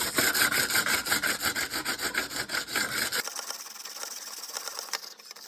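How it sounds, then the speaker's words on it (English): Hand sanding across a handmade mixed-media assemblage art journal, rapid rhythmic back-and-forth scratchy strokes close up that stop abruptly, followed by quieter light rubbing and handling. "I want to put a little bit more by sanding it."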